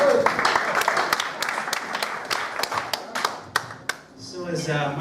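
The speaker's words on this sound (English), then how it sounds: "Let's give him a nice applause there." Audience applause for a comedian at a stand-up show, a dense stretch of clapping hands with a few sharp individual claps near the end as it tapers off.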